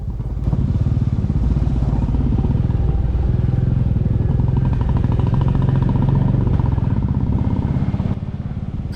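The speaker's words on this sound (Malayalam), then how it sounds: "അപ്പൊ അതിന്റെ മുകളിൽ കൂടെയാണ് നമ്മൾ ബൈക്ക് ഓടിച്ച് പോകുന്നത്" A Royal Enfield motorcycle rides over forest tree roots on an off-road trail, its engine a close, steady thumping drone with rattling clatter throughout.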